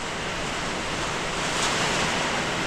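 Typhoon-force wind howling around a hut in a brownout, a dense, continuous rushing roar that holds at high volume and builds a little toward the end, with no voices.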